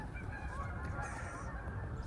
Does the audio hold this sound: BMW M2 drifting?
no